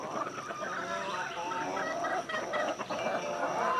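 Backyard chickens clucking, several birds close by in a busy overlapping chorus of short clucks and murmurs, continuous throughout with no talking.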